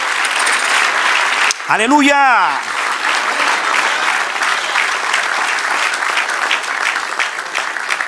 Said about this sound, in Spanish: Siga aplaudiendo